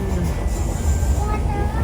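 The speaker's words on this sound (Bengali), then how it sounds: "আমরা এখন ট্রেনে বসে আছি," Steady low rumble and rattling from inside a moving train, a continuous close drone with faint clatter, under talking voices.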